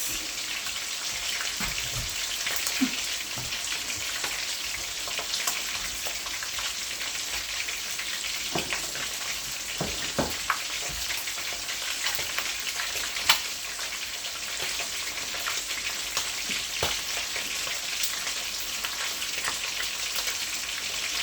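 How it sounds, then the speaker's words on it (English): Fish frying in a pan for brown stew fish gives a steady, close sizzle and crackle with scattered sharp pops and splashes, running throughout with no talking. "when it's frying, it splashes a lot"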